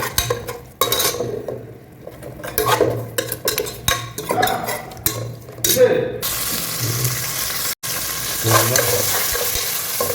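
Beef biryani mixture being stirred in a pot, with steady scraping and sizzling strokes for several seconds, then a continuous frying hiss near the end.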